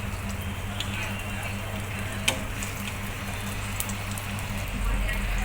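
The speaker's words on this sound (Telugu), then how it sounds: "ప్యాన్లో పోసి ఆమ్లెట్ వేసుకోవాలి." An egg omelette fries in a pan, giving a steady, close sizzle with faint crackles. A brief tap sounds partway through, and the sizzle grows slightly louder near the end.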